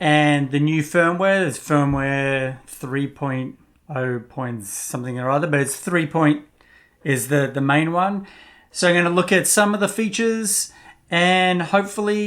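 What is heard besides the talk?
No everyday noise stands out behind the speech.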